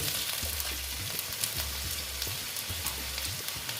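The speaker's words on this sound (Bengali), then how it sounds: "আলুটা আমি সুন্দর করে ভেজে নেব" Potato pieces sizzle in hot oil in a pan while cooking a pumpkin dish with five-spice, a steady close crackle with occasional stirring scrapes and no speech.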